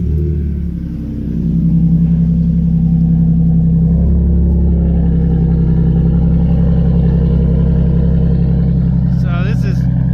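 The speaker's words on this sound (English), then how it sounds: "I'm gonna go ahead and give you a little sound clip at idle with the Legato" A cold Ford F-150 XL with the 3.7L engine idles through a Legato dual exhaust, a steady deep rumble holding evenly throughout, close and loud, with a brief higher whine near the end.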